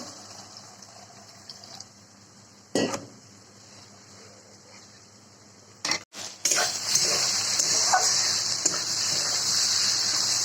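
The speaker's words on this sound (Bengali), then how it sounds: "এবার দিয়ে দেবো জল হালকা জল দেব" Water poured into a cooking pan of tomato gravy for egg curry, a brief clatter of utensils followed by a loud rushing splash and steady sizzling hiss as the liquid hits the hot pan.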